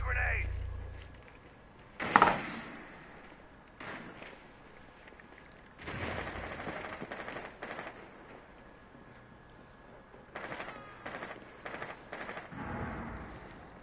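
Bursts of gunfire from enemies in a video game, several sharp volleys spread across the span, some loud and close, others fainter, with voices talking between them.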